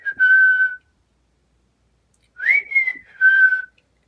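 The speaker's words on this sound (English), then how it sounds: "Cat counts the honey jars, whistling as she goes." A cat whistling, as a sound effect from a children's farm sound-button book: two short whistled phrases with steady, slightly wavering notes, separated by a pause of silence, played clearly and alone.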